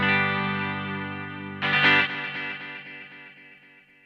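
Strymon Volante guitar effect pedal in tape echo mode: a sustained guitar chord, then a fresh strum at about 1.6 seconds whose repeats fade in a steady rhythmic train, slightly honky and warm, played alone without talk.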